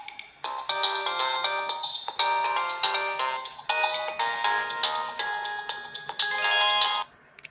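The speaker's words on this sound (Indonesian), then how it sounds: "Ini ringtone-nya ya." A Nokia 7260 mobile phone plays its ringtone loudly and close up, a bright electronic melody of repeated tonal phrases lasting about seven seconds before it stops, with no talking.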